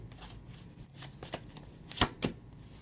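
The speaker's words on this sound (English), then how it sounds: "let me pull a few tarot cards just to clarify" Tarot cards being shuffled by hand, a soft riffling patter with a few sharper slaps toward the end, close and quiet, no talking.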